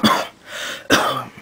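A person clears their throat with two harsh, close coughing bursts separated by a short pause, loud and alone with no talking.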